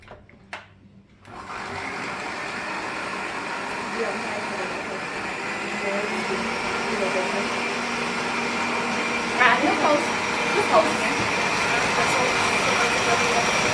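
An electric mixer beating a thick chocolate tart filling with butter, starting after a brief clatter and then running as a steady, even motor whine throughout, with faint voices under it.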